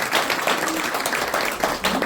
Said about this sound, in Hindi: जोरदार तालियों की आवाज सुनना।